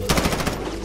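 A short, rapid burst of automatic gunfire in Call of Duty Modern Warfare beta on the Hackney Yard map, loud and close, with shots cracking in quick succession for under a second.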